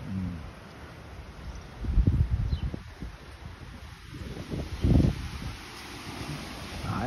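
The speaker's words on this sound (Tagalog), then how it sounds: "talagang mahangin" Strong wind blows outdoors in Hungary, a steady broadband rush with louder gusts buffeting the microphone and faint rustling underneath.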